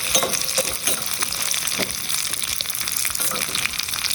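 Garlic fries in hot oil with curry leaves for a tempering, a dense, steady sizzle with soft crackles and stirring, close and continuous with no talk.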